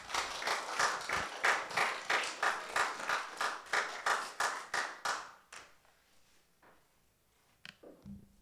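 Audience of a church middle-school youth group claps together in a steady burst of applause to welcome a teacher, loud and sustained for about five seconds before fading to a few scattered claps and small movements.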